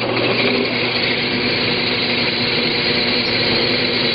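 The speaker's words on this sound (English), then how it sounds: "So it's real important to drill it really clean, perfectly all the way through." A power drill bores a hole through an acrylic reservoir, giving a loud, steady, unbroken grinding whine that holds for several seconds without pause.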